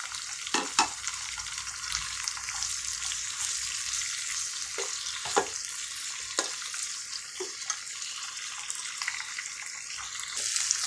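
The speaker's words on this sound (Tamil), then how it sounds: "இது இப்போ நல்லா வதங்கி வந்துடுச்சு" Steady sizzling of food frying in a pan, broken by occasional sharp scrapes and clicks of stirring. No one speaks.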